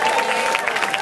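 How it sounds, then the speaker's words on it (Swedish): Steady applause from a crowd at a rap cypher, dense clapping throughout with a slight swell of cheering. "en stor applåd för allihopa"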